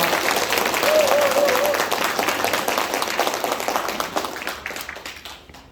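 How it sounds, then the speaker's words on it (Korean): Applause from an audience at a Democratic Party election rally in Gwanak, cheering a National Assembly member after his congratulatory speech; steady dense clapping with a voice over it, fading toward the end. "우리 박광훈 국회의원님께 다시 한번 큰 박수 부탁드리겠습니다."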